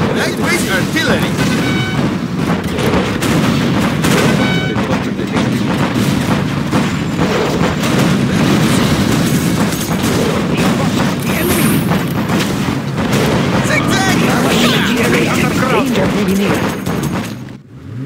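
Artillery booms and battle explosions in the real-time strategy game Command & Conquer Generals Zero Hour, dense and continuous, with game unit voice lines and battle chatter over the top.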